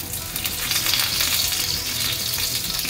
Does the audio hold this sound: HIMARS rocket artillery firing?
no